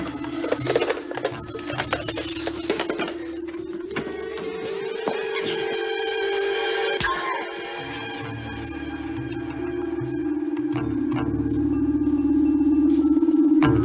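An old-style telephone bell rings repeatedly and fairly loudly indoors, with steady electronic tones continuing through the passage and no talking.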